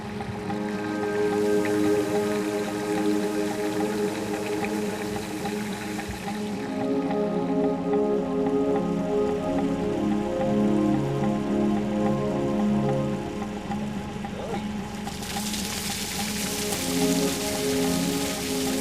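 Fresh water pours and splashes steadily onto the ground at a fracking site in Illinois, a continuous rain-like hiss and patter heard close up with a low rumble of machinery underneath throughout.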